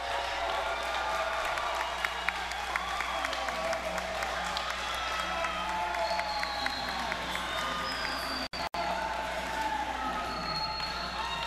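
Crowd at a boxing main event in Belize roars for hometown boxer El Mecanico Esquivel, steady cheering and clapping with scattered whoops and whistles filling the arena throughout.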